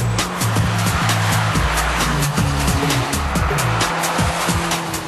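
A Carver three-wheeled tilting car, a tandem two-seater with a small city-car engine, drives hard with a loud, steady engine drone, repeated rising and falling revs and squealing tires through corners.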